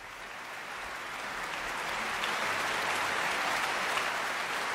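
Concert audience applauding an orchestra led by Barenboim, a steady dense crowd of clapping that builds slightly and holds at moderate level, heard from a distance without talk.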